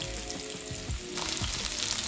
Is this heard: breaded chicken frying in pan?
yes